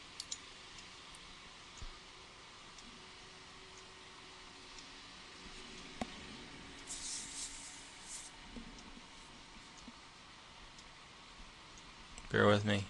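A few faint, brief computer mouse clicks during work at a desktop, mostly near the start, over quiet room noise.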